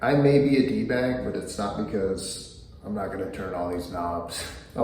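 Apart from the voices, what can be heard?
No everyday noises stand out.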